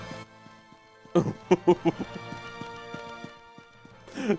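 Horse hooves in an old video game, a quick burst of clip-clop beats after a short pause, then a faint lull and a final knock, moderately loud against a steady tonal game background hum.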